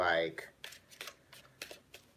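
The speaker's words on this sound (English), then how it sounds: "They have like a really loud, clappy shuffle." Cards riffled in a sharp, clappy shuffle, followed by a series of quick snapping bursts at a steady rhythm, close and fairly loud.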